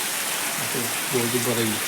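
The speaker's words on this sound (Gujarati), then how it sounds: "અને વરસાદ આવી ગયો છે" Rain hisses steadily throughout while a voice speaks briefly in the second half over the downpour.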